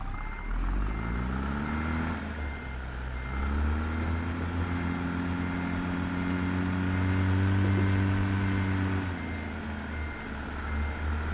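A truck in American Truck Simulator, with a C16 engine, idles with a deep steady rumble as its revs rise and settle slightly, while a reversing beep sounds repeatedly over it.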